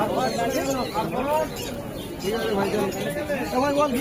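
Soft repeated cooing of pigeons close by at an open-air market, overlapping calls mixed with chatter and voices talking in the background.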